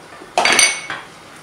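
A spoon or ladle stirs a pot of black pepper and melting ghee for steamed vermicelli with chicken, giving a single brief scraping clatter against the metal pot.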